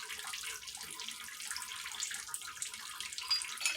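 Fluid from a Jeep 4.0 engine under rebuild drains steadily into a bucket, a continuous close trickling and splashing with no talk.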